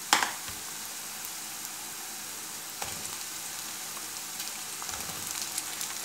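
Chopped vegetables for a ridge gourd curry hitting hot oil, giving a steady, soft sizzle with a sharper burst at the start and a few faint stirring clicks, no voices.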